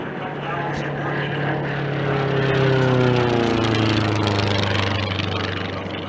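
Formula One class racing airplanes in the 2019 Silver race at the Reno Air Races: a loud, buzzing propeller-engine drone swells as a plane approaches and sweeps past, its pitch sliding down as it passes.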